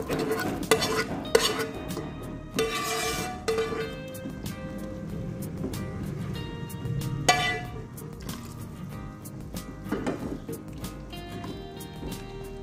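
Bamboo shoots are stir-fried in a pot, with repeated scraping and clanking of a spatula against metal over a low sizzle, loud bursts of stirring alternating with quieter stretches.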